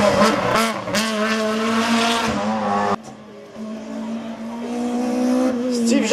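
A Renault GT Turbo race car brakes hard at a hillclimb course, its engine note dropping through downshifts with a brief quieter gap before it climbs again, loud and close, with a commentator talking over it.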